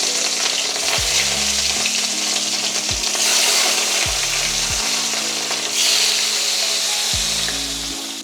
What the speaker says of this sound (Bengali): এবার একে একে মাছগুলো দিয়ে দিলাম